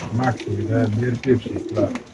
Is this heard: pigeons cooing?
yes